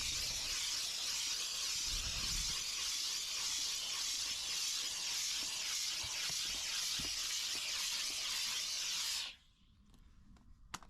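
A steam cleaner hisses continuously and loudly while steaming the carpets inside a Dodge Grand Caravan during interior detailing, a steady rushing jet that cuts off abruptly near the end, leaving near silence.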